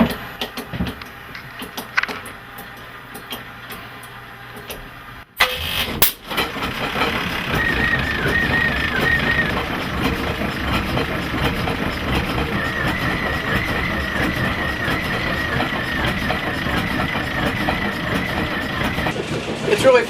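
An antique Washington-Estep three-cylinder engine starts with a sharp burst, then settles into a loud, steady, rapid mechanical chugging and clatter that carries on to the end.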